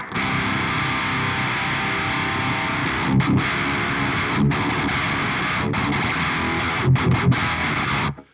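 Crunchy distorted electric guitar through the crunch channel of a Peavey JSX amp plays chugging riffs, dense and loud, with brief chopped pauses between phrases.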